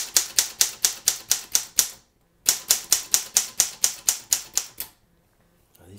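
A manual typewriter fitted with a new ribbon, its keys sticking, being typed on in two quick bursts of sharp evenly spaced clacks separated by a brief pause, then silence with a faint thump at the end.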